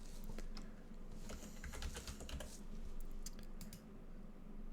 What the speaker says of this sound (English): So you're going through here and you're typing the username.